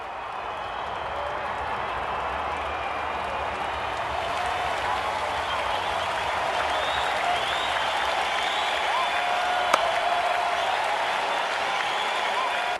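A large cricket crowd applauds and cheers steadily after a dot ball, forming a dense, continuous wash of clapping and crowd noise that holds at an even level for the whole stretch.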